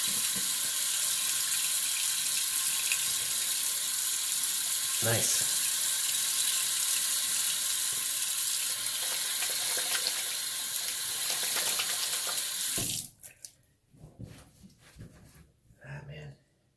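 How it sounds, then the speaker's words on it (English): Steady rush of cold tap water running and splashing during a straight razor shave for most of the clip, then cutting off; a brief spoken word breaks through near the end. "Cold water rinse."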